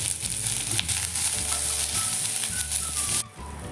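Chopped onion frying in half a spoonful of oil in a pan, a steady close sizzle with occasional stirring scrapes, no voices.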